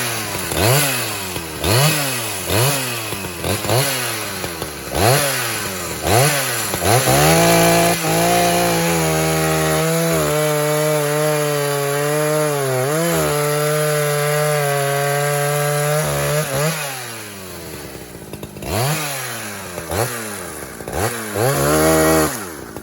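Two-stroke chainsaw cutting hardwood trees in a confined space, loud and close, the engine revving up and down in rapid pulses, then holding a long high whine through the cut before pulsing again.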